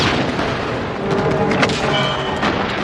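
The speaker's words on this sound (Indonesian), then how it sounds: "Kang Yen menyuruh Haewon untuk meledakkan markas mereka" A gang's hideout blows up in a Korean action film, a loud sustained roar of explosions and booming blasts with rumbling debris, continuous throughout.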